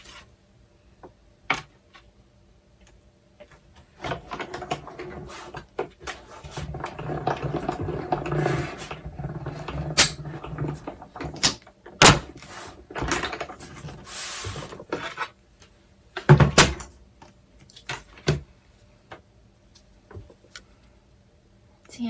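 Stampin' Up! Cut & Emboss Machine running a die and paper through its rollers for a leaf die-cut, a close, uneven grinding crank with sharp clicks and bumps that build mid-clip, then scattered knocks and handling.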